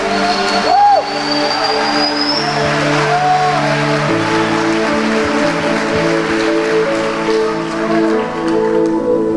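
Congregation clapping steadily and loudly through a church sermon service, a dense continuous wash of applause with musical keyboard tones sustained underneath.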